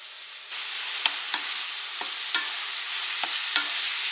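Salt, black pepper, garlic powder and onion powder stirred into a pot of vegetable soup: a steady soft hiss with a spoon clicking against the pot several times at irregular intervals.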